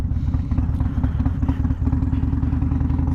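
A Harley motorcycle with a Fuel Moto Stage 2 tune cruises along, its low, pulsing V-twin exhaust rumbling steadily and loudly up close with a rhythmic throb and no speech.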